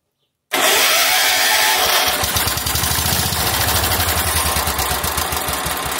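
An old Wheel Horse lawn tractor engine cranks after a moment of silence, catches and runs with a loud, close, rough rhythmic chugging.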